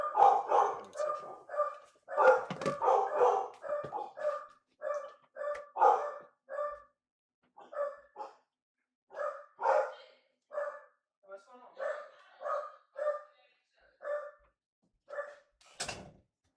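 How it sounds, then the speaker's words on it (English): Several dogs bark repeatedly at someone arriving at the door, sharp clustered barks in bursts with brief pauses, fairly close and loud, with a sudden noise near the end. "Oh, my dogs are going crazy."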